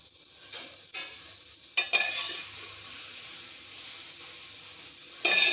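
A spoon scrapes and clinks against a pot while stirring mutton with turmeric, salt and mustard oil, several sharp metal strokes over a faint sizzle, close and without talk.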